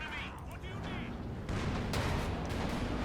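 Artillery in the Company of Heroes 2 war game, heavy booming impacts rumbling low and loud, the barrage growing denser and stronger about halfway through, under a commentator's voice.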